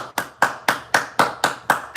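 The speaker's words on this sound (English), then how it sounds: "let's clap for the whole state of Alabama" Steady rhythmic clapping, about eight sharp claps evenly spaced over two seconds, close and distinct with no voices, like an audience clapping in time.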